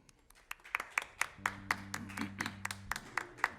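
Scattered applause greets a guitarist at a live band performance. Separate, distinct claps sound from a small audience, while a low sustained instrumental hum runs under the middle.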